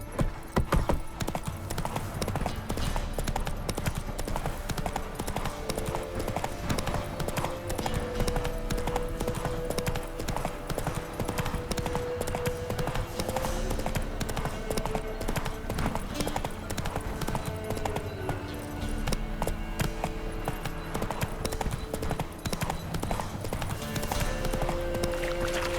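A horse gallops in The Witcher 3: Wild Hunt, its hooves pounding out a fast, continuous clip-clop rhythm that stays loud and close throughout, over a steady bed of game sound.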